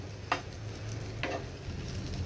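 Tomato and egg sautéing in a pan give a soft, steady sizzle. Two brief scrapes of stirring break through it, and no one speaks.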